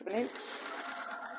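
A sewing machine runs steadily as it stitches around the edge of a fabric jewellery pouch, a continuous close mechanical whir that follows a brief spoken remark.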